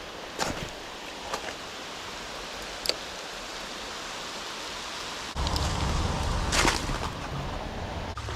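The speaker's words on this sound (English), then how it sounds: "but it's still raining a little bit" Light rain falls outdoors in a soft, steady hiss with a few faint taps and rustles, then a low rumbling wash swells in partway through; no one speaks.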